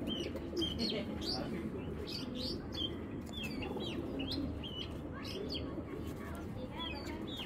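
Pigeons in a loft, some of them molting, give low cooing and burbling calls, faint and continuous, mixed with higher chirps from other birds nearby.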